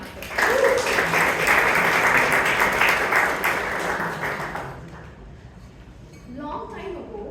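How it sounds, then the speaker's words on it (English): Audience applause fills a Toastmasters club meeting room in Bangalore: dense, steady clapping from a crowd that runs loud for about four seconds, then thins and fades, with a few voices emerging as it dies down. "Let's once again give a big round of applause for Toastmaster Karunakar."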